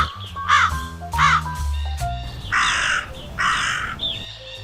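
Crow cawing, several loud harsh caws close by, the last two longer and raspier, with no talk.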